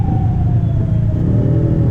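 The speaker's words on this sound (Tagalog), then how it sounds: "Ambulansya yan eh." An ambulance siren sounds faintly as a thin wavering tone above the loud, steady rumble of a car on a road, heard from inside a moving vehicle.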